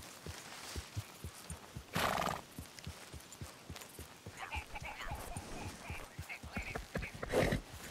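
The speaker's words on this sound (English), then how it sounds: "Horse doesn't sound like she's too excited to be out here." A horse in Red Dead Redemption 2 whinnies twice, loudly and nearby, while a steady rhythmic clip-clop of hooves runs under the calls and soft background ambience.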